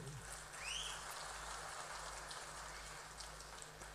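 Light drizzle falling steadily in Tenkasi district, a soft continuous patter alone and fairly faint throughout, with a brief high chirp near the start.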